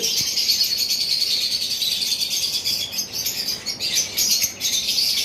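Pair of lovebirds in a shop chirping with dense, continuous high twittering and shrill calls, close and fairly loud, with no voices over it.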